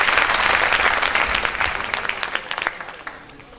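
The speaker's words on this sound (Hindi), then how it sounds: "एक बार अपने माता पिता के लिए जोरदार तालियां होनी चाहिए दोस्तों" Seminar audience applauding a call to honor parents, a dense wash of clapping that starts loud and full, then thins into scattered individual claps as it fades.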